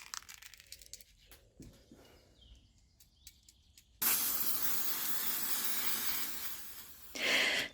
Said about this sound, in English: you'll just need to give it 2 coats of a spray gloss varnish to seal the inks in.